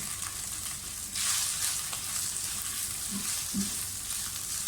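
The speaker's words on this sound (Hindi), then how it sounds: "लहसुन फ्राई हो जाए तो प्याज डाल दें, अनियन।" Steady sizzling and crackling of onions frying in a hot pan with garlic, close and continuous, with occasional stirring scrapes and no voices.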